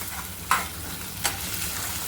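A pan of cabbage sabzi sizzles steadily while tomatoes are added, and a spoon stirs it in two short scraping strokes close by.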